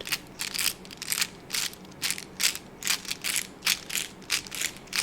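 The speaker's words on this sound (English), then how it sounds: "I hope that these Tic Tac boxes aren't too loud." Giant Tic Tac boxes rattle in quick, irregular bursts, a series of close, crisp plastic clatters with brief gaps between shakes.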